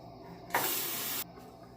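Water runs briefly from a tap while a shaving razor is rinsed, a steady broadband spray of about a second that starts and stops abruptly over a quiet room.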